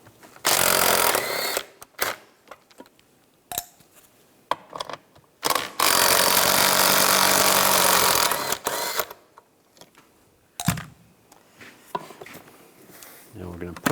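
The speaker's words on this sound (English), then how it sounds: "Use a 13 millimeter socket. Take those nuts out." A tool drives a 13 mm socket to remove the seat nuts on a 2000-2006 Chevrolet Tahoe, in loud, close, broadband bursts a few seconds long separated by quieter gaps with light handling noise.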